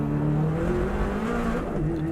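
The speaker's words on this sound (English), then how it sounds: "Into 3rd gear." A Subaru Impreza race car engine drones loud and steady at close range, its tone pulling slightly as it shifts up into third gear, with a hint of tyre noise beneath.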